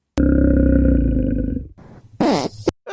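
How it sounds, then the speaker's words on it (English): Comedy sound effect of a farting grizzly bear: one long, low, buzzing blast lasting over a second, loud and close, then it fades out and a few brief rasping squeaks follow before a short cutoff. "I get out from under this horrible farting grizzly"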